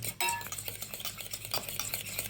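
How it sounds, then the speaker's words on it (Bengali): Rapid, rhythmic clicking and scraping of a utensil whisking eggs in a bowl, close up and quiet, with no voices. "এটা সুন্দর ফেটে নিলাম"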